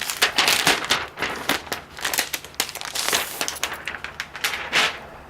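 Protective plastic film is peeled off Surface Pro packaging, giving close, irregular bursts of crinkling and crackling that come and go unevenly.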